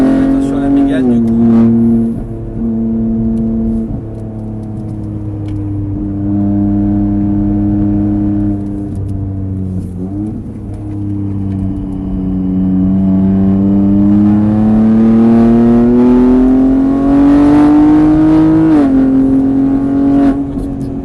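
Race car engine on the Mireval circuit pulling hard under acceleration, a loud steady rising drone with pitch climbing and dipping as the driver eases off and gets back on the throttle, with people talking over it.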